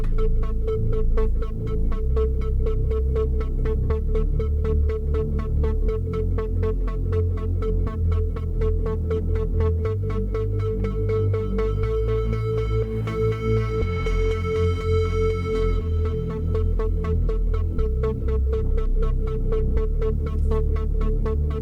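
Electronic track bass from a GTA soundtrack piece plays with rapid Morse-code-like beeping over a steady deep low-end pulse, continuous and loud throughout with no voices.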